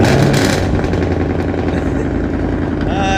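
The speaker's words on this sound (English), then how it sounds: "Start the engine, please." A car engine runs at a steady, rough idle close by, a continuous low rumble with a faint whine near the end.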